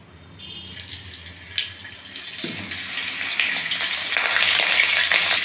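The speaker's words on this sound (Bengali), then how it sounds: "এখন আমি এক এক করে ফুলকপিগুলো ভেজে নেব।" Cauliflower pieces fry in melted ghee and oil in a pan, starting quiet and building into a bright, steady sizzle that grows louder toward the end, with occasional clinks of handling.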